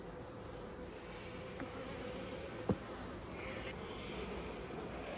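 Honeybees buzz around an open beehive, a low steady hum close by with a soft click or knock partway through and no talking.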